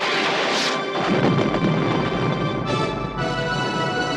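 A loud crashing explosion of a helicopter in a 1980s action movie bursts out, followed by a roaring, rumbling blast that sustains with debris-like noise under a tonal hum.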